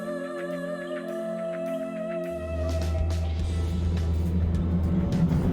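A van sets off on an off-road island track in Australia, its engine rumbling up into a steady, close drone as it pulls away over a background hum.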